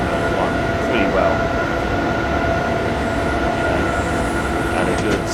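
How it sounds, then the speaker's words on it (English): A haulage train rolls past in the Train Sim 2014 game on the Three Country Corner route, a steady loud rumble with faint wheel clatter and squeal throughout. "Oh, there's another train. Hello, another train."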